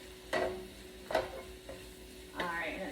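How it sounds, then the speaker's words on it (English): Pasta sauce ingredients sautéing in a pan on a cooktop: a soft, low sizzle broken by three distinct scraping stirs of a utensil, close and fairly quiet, with no talking. "I'm just going to continue to let that saute on the cooktop here"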